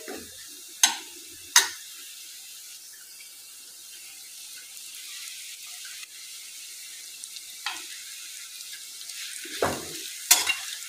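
Leftover chapati pieces with salt are stirred in a pan, giving soft scraping and a few sharp spatula knocks against the metal, spread unevenly over a quiet background with no talking.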